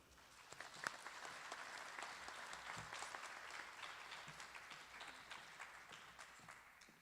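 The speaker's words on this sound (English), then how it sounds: "Please join me in a round of applause as we recognize this group." An audience at a pharmacy school pinning ceremony gives a round of applause, a steady wash of many hands clapping, fairly distant and even throughout.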